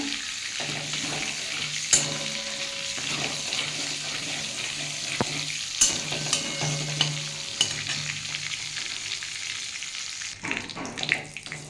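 Nigella seeds and a dried red chilli crackle in hot oil in a pan, a steady close sizzle broken by scattered clicks and scrapes of stirring, with no talking.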